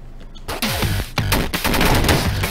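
Rapid shotgun blasts in the video game Downwell, a dense, loud string of punchy gunfire bursts that starts after a short quiet lead-in, with no talking.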